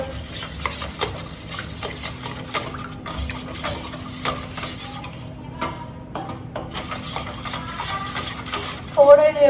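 Spoon stirring semolina in a kitchen bowl, a steady close scraping and clinking rhythm that goes on throughout, with a louder clatter at the end.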